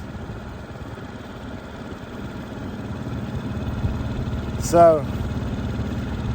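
A boat motor idles steadily on a river in a marsh, a low continuous rumble throughout, with a short spoken word near the end.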